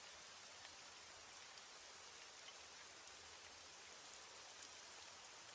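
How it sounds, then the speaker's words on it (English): Steady, even rain falls continuously at night, a soft dense hiss of drops on surfaces with no voices and no breaks. "As the rain falls and the night deepens"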